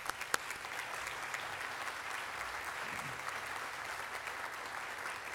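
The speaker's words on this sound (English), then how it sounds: "So why don't you give yourself a nice round of applause." Graduates of a civic service corps class applaud themselves at a graduation ceremony, a full, sustained round of crowd clapping heard throughout, moderately loud and steady in a large room.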